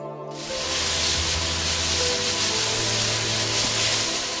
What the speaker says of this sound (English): This is not rain. It is pesticides being sprayed on grape vineyards in Nasik.